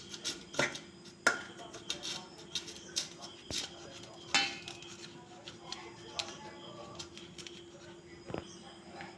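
Knife cutting stale roti into pieces on a board, a series of sharp, irregular taps and soft scraping chops, close and fairly quiet, with someone talking over part of it.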